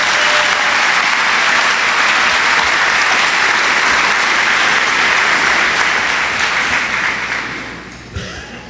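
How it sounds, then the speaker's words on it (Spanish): A church congregation gives a loud, sustained round of applause during a Spanish-language worship service, dense and continuous before tapering off near the end. "Dele un fuerte aplauso al Señor."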